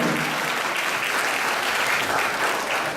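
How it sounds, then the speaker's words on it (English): A crowd at a kindergarten move-up ceremony applauds parents and families, steady dense clapping filling the room without a break, loud and close. "Let's give our parents and families a applause."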